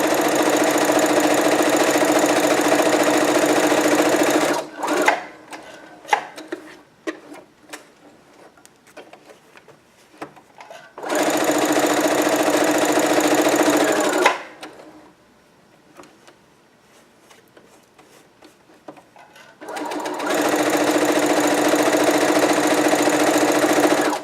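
Sewing machine stitching a straight seam, three loud continuous runs of rapid needle chatter separated by quieter stretches of small clicks and handling noises as the fabric is repositioned for back stitching.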